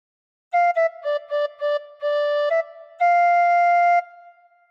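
A tin whistle plays a phrase of Joy to the World alone: a run of short, clean, gently blown notes followed by one long sustained note, with a brief tail afterward.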